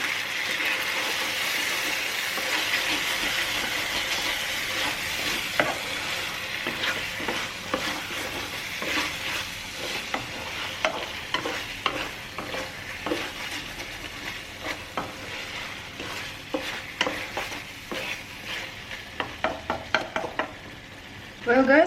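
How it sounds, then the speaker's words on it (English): Chicken sizzling in oil in a kadhai for a North Indian recipe, with a steady frying hiss throughout and repeated scraping clatter of a spoon stirring near the pan, the clatter quickening toward the end. "I've been frying the chicken like 10 minutes."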